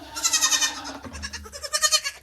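Baby goats bleat on a farm, a close, high, wavering cry followed by a shorter second bleat, with no speech over them.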